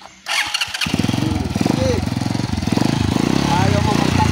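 A motorcycle engine kick-starting after a sharp knock, then catching into a loud, fast, even chugging idle that runs steadily to the end, close to the microphone.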